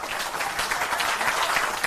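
Steady applause from an audience, dense even clapping throughout a short stretch with little talk.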